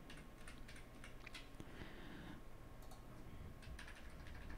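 Soft keystrokes as the Alt and arrow keys are pressed on a computer keyboard to position elements in a Java dynamic layout. Irregular clicks sit over a steady, faint room hum.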